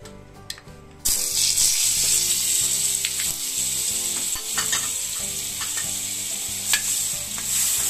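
Paneer frying in melting butter with a little oil, a sudden loud sizzle after a second of quieter handling, then a steady close hiss with faint rattling and stirring, no talking.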